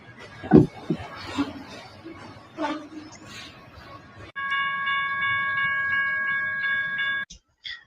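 A freight train on a California railway sounds a long, steady horn for about three seconds, loud and close, after a stretch of people talking over rumbling rail noise.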